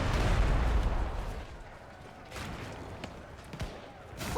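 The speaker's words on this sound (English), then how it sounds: "Aim the cannons." Cannon fire in the stealth game Shadow Tactics: Blades of the Shogun, a heavy rumbling blast up front followed by a few sharper distant booms and impacts over a low ambient bed.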